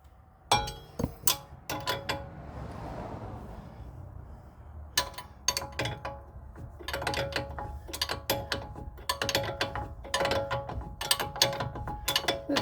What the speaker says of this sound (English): We're going to have to use a standard wrench to tighten it.